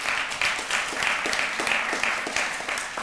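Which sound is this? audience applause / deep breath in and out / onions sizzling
audience applause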